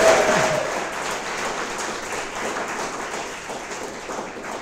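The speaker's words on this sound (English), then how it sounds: "let's get a round of applause for Alex" An audience at a Startup Weekend event in Houston claps for a presenter, a dense and steady round of applause that stays fairly loud and fades slightly toward the end.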